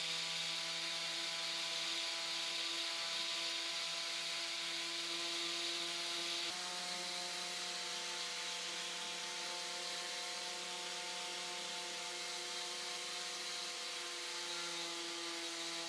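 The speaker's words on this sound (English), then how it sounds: "So as you'll see as I'm sanding here on the side, it is just a simple scuff sanding" A power sander scuff-sanding a wood veneer dresser runs steadily with a whining hum and a faint scratchy rasp against wood, continuous and unchanging for the whole stretch.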